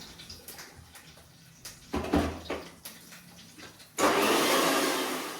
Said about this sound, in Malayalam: ഇച്ചിരി കൂടി വെള്ളം ഒഴിച്ചിട്ട് അരയ്ക്കാം.